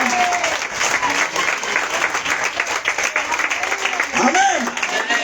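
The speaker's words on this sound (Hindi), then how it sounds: "भिवंडी से देखो देखो देखो देखो, क्यों से ताली बजाइए।" Lively applause from a church congregation gathered for a Friday fasting and deliverance prayer service fills the room, steady and loud, while a preacher's amplified voice talks over it.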